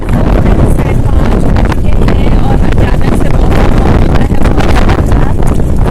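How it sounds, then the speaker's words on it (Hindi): Strong wind roars across the microphone in a continuous, loud buffeting rush, with a person briefly speaking underneath. "बहुत तेज तेज हवा चल रही है"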